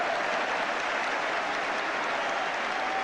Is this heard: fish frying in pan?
no